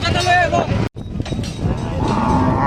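At a crowded cattle market in Hazratpur, a close cow moo rises with a wavering tone before cutting off sharply, followed by dense crowd chatter and bustle.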